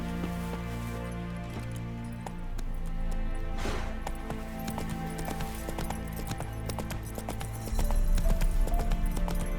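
Roach the horse gallops in The Witcher 3 video game, hooves drumming in a steady, continuous clip-clop rhythm up close, with faint game ambience beneath.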